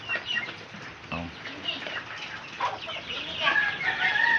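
Pet chickens cluck and cackle close by in a yard, with scattered calls rising over a light background and brief human voices.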